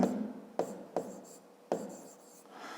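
A pen scratches across paper close by as an equation is written out by hand in a maths lesson. Soft strokes carry a few sharper taps, with no talking.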